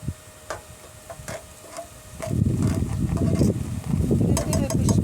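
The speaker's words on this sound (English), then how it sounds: "Give it a bit of a stir." Food with buckwheat is stirred in a pan in a van kitchen, scraping and rustling rising to a steady busy stir with clicks of the utensil, while a voice talks over it.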